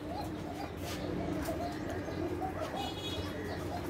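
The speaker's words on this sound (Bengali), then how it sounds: "ঘুঘু পাখিগুলো অলরেডি খড় টানা শুরু করে দিছে" Doves coo softly amid other bird chirps while gathering straw for a nest outdoors, a steady low murmur of calls running through with no talking.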